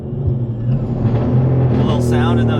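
A 700-plus horsepower car engine revs and accelerates hard with a steady loud rumble that rises in pitch toward the end, while people talk over it.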